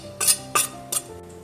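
A utensil mixing finely chopped preserved cherry blossom paste into a butter and sugar mixture in a bowl, three distinct clinks against the bowl at a slow, regular pace.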